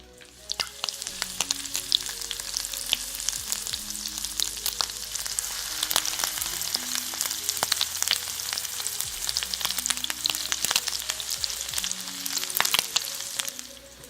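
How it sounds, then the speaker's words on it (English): Shrimp frying in hot butter in a pan, a steady close sizzle with dense crackling pops throughout, occasional utensil scrapes, and no talking. "With the butter nice and hot, we're gonna put the shrimp in."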